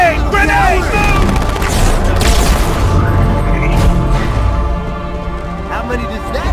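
Loud grenade blasts and rapid bursts of automatic gunfire erupt in a Halo 2 Anniversary firefight, booming close and dense before easing toward the end, with frantic shouting voices mixed in.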